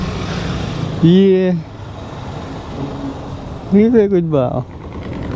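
A Honda CB400 motorcycle engine runs with a steady, close mechanical hum throughout, while someone speaks briefly over it twice.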